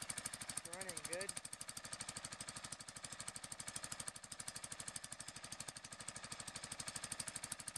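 An older Exmark lawn mower engine idles steadily after a cold start, putting out a fast, even chugging thump up close. Someone talks briefly over it at the start.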